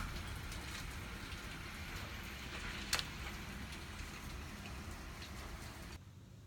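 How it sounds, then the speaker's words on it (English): Hail pelting tree leaves in a storm, a steady dense rattle of many small impacts with one sharper crack near the middle, fairly close and unbroken throughout. "that hail is knocking the leaves off the tree"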